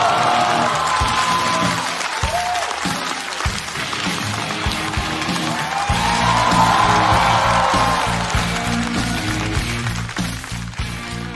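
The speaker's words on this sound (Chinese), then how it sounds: "掌声欢迎黄健翔" A stand-up comedy audience claps and cheers to welcome Huang Jianxiang onto the stage, with dense, sustained applause and scattered whoops from the crowd.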